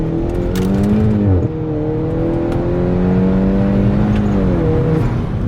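A lowered 350 bhp Volkswagen GTI drives and accelerates, its engine a loud, close, steady drone that dips briefly at a gear change before climbing again, with no talking.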